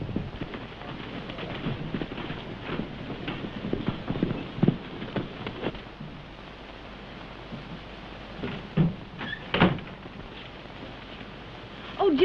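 Horse hooves clip-clop unevenly on a hissy, crackling 1932 film soundtrack of a frontier wagon scene, with a few sharper, louder hoof strikes near the end.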